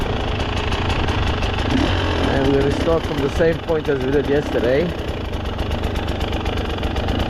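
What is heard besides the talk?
KTM 300 motorcycle engine idling after warm-up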